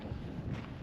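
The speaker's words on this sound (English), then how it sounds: "Still pretty windy, as you can see on the hammock there." Wind blows steadily at a desert campsite in the mountains, a low, faint, continuous rush buffeting the microphone with no voices.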